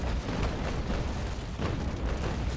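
Sailing-warship cannons fire a broadside from the ship Le Gros Ventre in the Naval Action game, a rolling series of muffled, distant booms and rumbles at fairly low volume.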